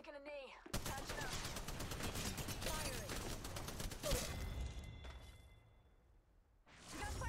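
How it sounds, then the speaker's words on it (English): Rapid automatic gunfire rattles through most of the stretch in Apex Legends Mobile, incoming fire in a dense burst with whooshing passes, fading briefly near the end before another burst. "Firing. We got fire coming our way."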